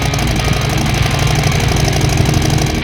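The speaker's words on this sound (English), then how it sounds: "the Harley Davidson Fat Bob with the 114 cubic inch engine" A loud, close Harley-Davidson Fat Bob motorcycle with a 114 cubic inch engine runs steadily with a deep, rumbling, slightly knocking idle throughout.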